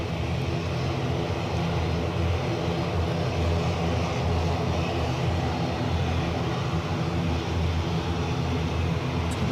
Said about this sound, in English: depart action will be this ATR 72, which is off to Dublin